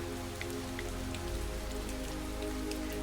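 Steady rain falling and pattering on a surface, a close, even wash of drops with scattered sharper ticks, continuous and alone without voices.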